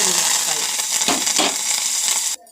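Garlic, curry leaves and lentils frying in hot oil, giving a loud, dense crackling sizzle with a few stirring scrapes that cuts off abruptly near the end.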